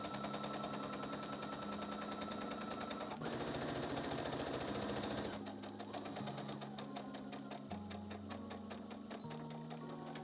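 A sewing machine runs a straight 2.5mm stitch along a lace skirt seam, a steady rapid needle chatter with a few changes in speed, close and alone.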